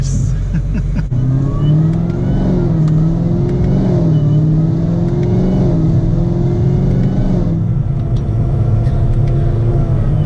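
Supercharged 800 hp ZL1 Camaro revving under load, a loud low engine rumble with rising and falling supercharger whine throughout, with people talking over it.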